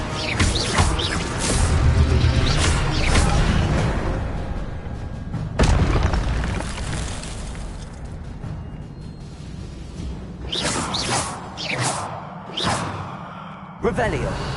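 The Incendio fire spell goes off in Hogwarts Legacy on PS5 with loud whooshing bursts and booming impacts scattered through the stretch. Other spell effects and a voice calling spell names run alongside.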